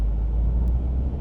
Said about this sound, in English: Oh, that's a truck back there.